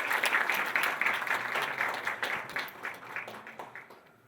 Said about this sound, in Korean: 박수를 맞이해 주시겠습니다.